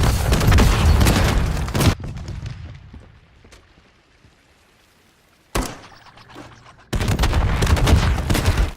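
Heavy gunfire in Modern Warfare III on the Rio map, a loud burst of booming shots followed by a quieter stretch, then a sharp blast and another long volley of rapid reports.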